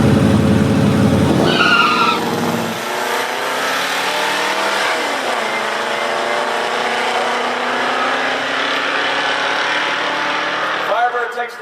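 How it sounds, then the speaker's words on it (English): Ratty muscle cars launching in a drag race, with a loud roar and screech at the start, then a sustained engine drone fading as the cars pull away, rising again near the end; crowd voices mixed in. "You're going to see it bog down and lose terribly to this Firebird right now."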